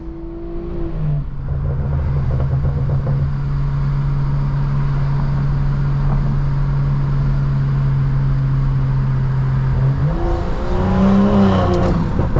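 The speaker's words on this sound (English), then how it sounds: "Car sounds great." A stage 2 BMW M340i fitted with a downpipe accelerates hard with a loud, close exhaust roar. The drone is sustained, then shifts in pitch near the end as it keeps pulling.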